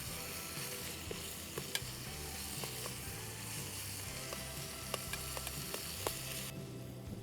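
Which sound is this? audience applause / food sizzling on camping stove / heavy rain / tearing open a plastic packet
food sizzling on camping stove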